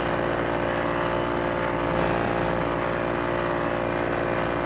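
Steady, droning engine roar of a P-40E Warhawk WWII fighter in a VR flight game over a bay, continuous and loud with no talk.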